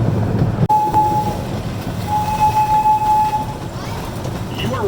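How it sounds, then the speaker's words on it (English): Amusement park train CP Huntington number 79 on the Lake Winnipesaukee Railroad rolls along with a steady rumble and rattle, a sharp clunk near the start and a long sustained whistle-like tone, while a recorded voice narrates over it. "You are riding on board CP Huntington number 79. One of 2 trains that operate on the Lake Winnipesaukee Railroad."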